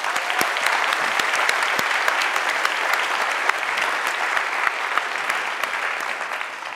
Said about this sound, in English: I would love to give a big round of applause for ETS, Caspian, and everyone else who's ma